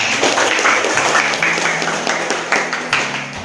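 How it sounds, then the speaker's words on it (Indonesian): A classroom of students claps, a quick rhythmic patter of hands in loose unison with a low hum beneath, fairly close and fading slightly toward the end. "Tepuk tangan buat"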